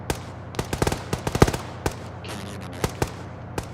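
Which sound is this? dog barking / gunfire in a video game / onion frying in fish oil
gunfire in a video game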